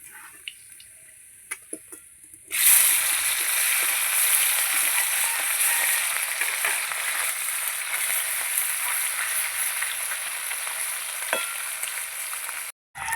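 Small puti fish fry in hot oil in a wok, giving a loud steady sizzle that starts suddenly after a quiet opening and runs on, then cuts out briefly near the end.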